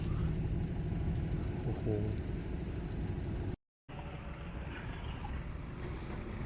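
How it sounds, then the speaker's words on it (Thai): A single-cylinder petrol water-pump engine mounted on a bicycle-style minibike gives a steady, close rumbling drone with wind buffeting, briefly cutting out before resuming, and voices faintly underneath. "เป็นเครื่องสูบน้ำนะครับ สูบเดียวเนาะ"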